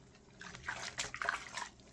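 Water sloshing and trickling while a rescued dog is soaked in a bath, with soft irregular splashes and drips rising and falling at close range, no talk.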